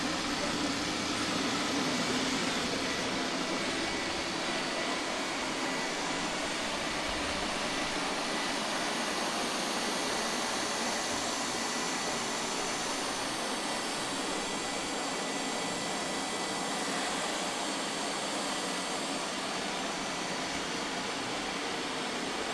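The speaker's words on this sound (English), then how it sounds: "It's only a vacuum robot, not washing the floor like the other one." A robot vacuum cleaner runs steadily on a household floor, giving a continuous broadband whir and hum that stays even and close for the whole stretch, with no talk over it.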